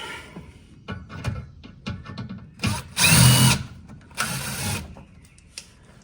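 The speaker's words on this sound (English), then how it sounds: "I'm going to use a gun, an impact gun, just to zip them off." Impact gun zipping splash shield screws off a 2014 Ford Fusion during an oil change, several loud buzzing bursts, two long ones, among clicks and handling clatter close by.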